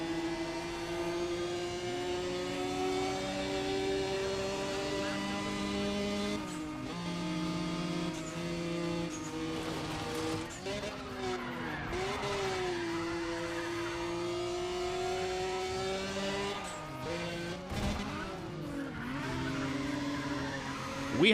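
Race car engines in Need for Speed ProStreet whine steadily and close, with rising and falling revs and repeated tire squeals and skids as the cars corner, continuing without a break.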